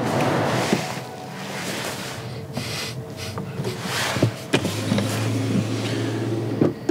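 Honda e electric car driving with its charging flap open, a steady low road rumble and hum running throughout, with a few brief clicks and knocks near the end.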